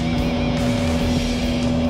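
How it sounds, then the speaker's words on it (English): A Mercury MerCruiser petrol-engined boat runs at about 5,000 rpm, around 40 knots, giving a loud, steady high-revving drone with water rush and wind throughout. "With a little trim, the boat is flying across the water."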